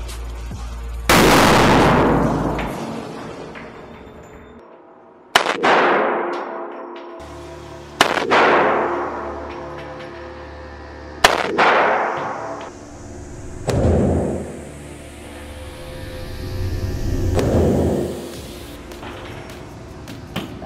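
Five or six heavy firearm shots ring out at a shooting range, each loud, sharp crack spaced a few seconds apart and trailing off in a long, booming echo, with no talk between them.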